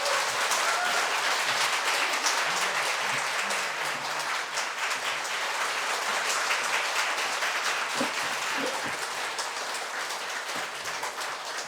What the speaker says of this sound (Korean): 여러분 박수 주시죠